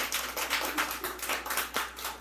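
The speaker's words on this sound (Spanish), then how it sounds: "Un aplauso fuerte para ellos." An audience claps during a sing-along at a Kaqchikel song session, a brisk, fairly loud run of overlapping hand claps with uneven rhythm and no voices.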